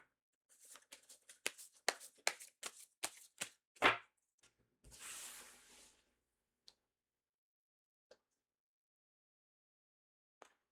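Tarot cards are handled on a table: a quick run of soft taps and clicks, then a short riffling shuffle, followed by a few faint isolated ticks in near silence.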